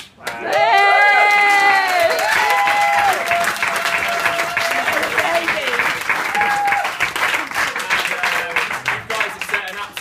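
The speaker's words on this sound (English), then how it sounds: "a round of applause again" Wedding guests burst into loud applause during a best man speech, thick clapping with cheers and whoops carrying on for several seconds before slowly thinning out.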